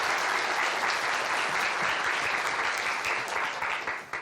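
Audience applause welcoming a minister's lecture on the intelligent information society at a televised event, a dense continuous burst of many hands clapping that fades slightly near the end.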